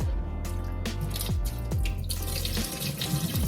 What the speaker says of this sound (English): I'm gonna rinse these off really good and drain them